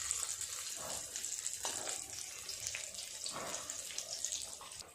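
Prawn fritters deep-frying in oil over low heat, a steady close sizzle and crackle with bubbling hiss and occasional louder spits.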